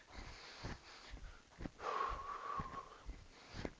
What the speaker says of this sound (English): Breathing, making it nice and easy.